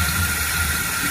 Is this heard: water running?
yes